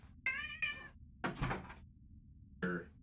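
A house cat meows repeatedly indoors, wanting out of a room: three clear, close meows with a pause between, alongside a few dull knocks like a door or paw thumping, over a quiet low hum.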